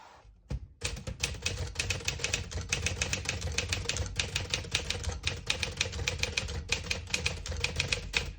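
Rapid, steady keystrokes on a 1957 Smith-Corona Silent-Super portable typewriter, crisp clacks in an even rhythm after a brief pause at the start, heard up close.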